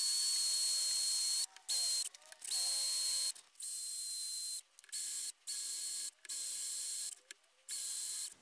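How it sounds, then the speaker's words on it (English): Small hand or power drill boring a 3mm pilot hole through metal ahead of a 4.2mm tap drill for an M8 thread while fitting a mill DRO, heard as several close, bright whirring bursts separated by short pauses. "But I'll go through with probably a 3mm drill bit first"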